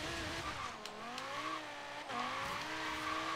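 Tires squeal and skid as an overpowered car slides through a turn in Forza Horizon 3, the engine droning steadily beneath the long, wavering screech with no pauses.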